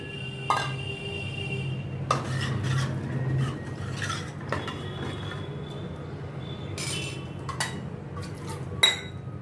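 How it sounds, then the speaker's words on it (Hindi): Soaked toor dal goes into a pot and is stirred while sambar is cooked at home, heard as sparse metallic clinks and scraping spoon strikes over a quiet background hum, with no one speaking. "अभी इसमें मैं ये तुअर की दाल डालती हूँ, जो मैंने भिगो के रखी थी।"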